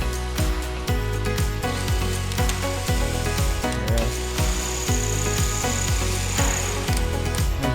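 A power drill with a stepped bit bores through concrete block while plastic bathroom partitions are installed, giving a loud, steady grinding roar with repeated rhythmic bursts and pulses throughout and no pauses.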